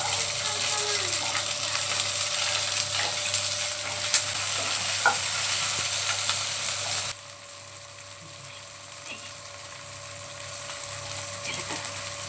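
Green chillies fry in oil in a pan with a steady, moderately loud sizzle and a few faint clicks, the crackle softening noticeably midway and then holding at a lower level.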